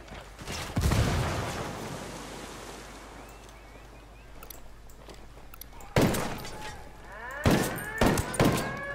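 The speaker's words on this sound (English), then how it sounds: "I just wanted to hear these gunshots." Gunfire in the shooter game Ghost Recon Wildlands, a loud blast that rolls off into a long fading echo, followed by several more sharp distant shots and booms, with an open outdoor ambience between them.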